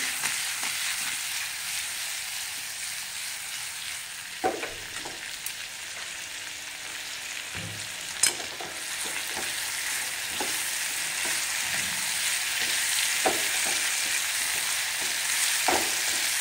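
Eggplant stir-fried in oil on high heat, a steady bright sizzle with occasional scraping and tapping of a spatula against the pan.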